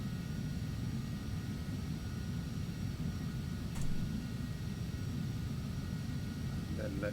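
An EMB-505 jet taxis along a runway in the Prepar3D flight simulator, giving a steady low engine drone with a faint whine and a brief click midway.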